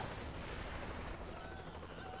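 A muffled, rumbling blast with a dense burst of noise that sustains at moderate level, an explosion in the game Saints Row: The Third.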